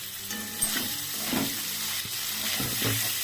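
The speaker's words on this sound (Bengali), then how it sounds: "পনিরগুলো ভাজা হয়ে গেল, বেশি ভাজবো না," Paneer cubes fry in hot oil for palak paneer, giving a steady, close sizzle with a few light clicks and scrapes of stirring throughout.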